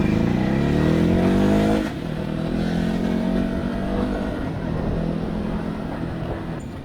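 A Ducati Hyper Motard 950 RVE motorcycle rides close by, its engine rising in pitch as it accelerates, then dropping into a steady, slower cruise with wind rush.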